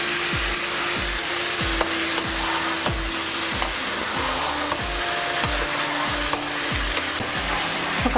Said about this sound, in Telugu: చికెన్ వేసుకుని బాగా కలుపుకుందాం